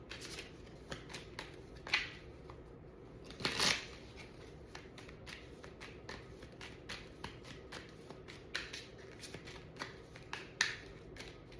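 A pocket oracle card deck is shuffled by hand, giving quiet, scattered riffles and soft card slaps at irregular intervals in an otherwise hushed room.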